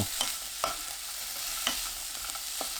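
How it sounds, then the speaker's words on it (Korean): Onion stir-frying in a tablespoon of cooking oil in a pan over medium heat: a faint continuous sizzle broken by a few sharp spatula scrapes and taps, close up, with no voices. "달궈지지 않은 팬에 식용유 1큰술, 양파 넣고 중불로 2분 30초 볶아주세요"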